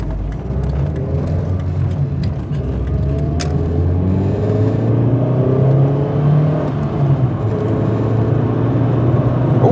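A 1999 Ford Escort ZX2 with a Zetec engine drones steadily while driving on a road, a continuous close engine hum with tyre and road rumble, pitch slowly rising as it gathers speed.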